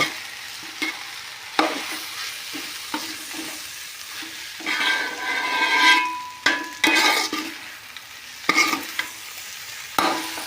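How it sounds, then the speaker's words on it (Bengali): Soaked basmati rice is stirred in a sizzling pan of tomato rice, with scraping spoon strokes and clattering bursts over a soft, continuous frying hiss, close and without talk. "বন্ধুরা চাল দিয়ে এখন ভালো করে একসঙ্গে মিশিয়ে নিব"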